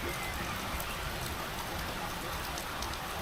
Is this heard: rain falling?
yes